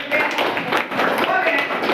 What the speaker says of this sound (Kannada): ಚಪ್ಪಾಳೆ ಹೊಡೆಯಬೇಕು